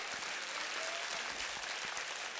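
A church congregation applauds steadily, a dense wash of many hands clapping together that holds at an even level throughout, with no voices rising above it.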